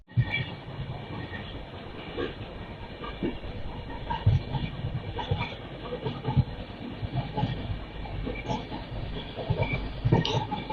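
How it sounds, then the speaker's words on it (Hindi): A Duronto Express passenger train runs steadily on the rails toward Kanpur Central at evening, with a continuous loud rumble, wheel clatter and hiss heard from inside the moving coach. "अपनी ट्रेन अब पहुंचने वाली है कानपुर सेंट्रल रेलवे स्टेशन पर"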